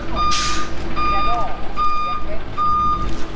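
A ready-mix concrete truck reversing on a house-building site in the Philippines sounds four evenly spaced, loud electronic beeps over a rumbling engine, with voices in the background.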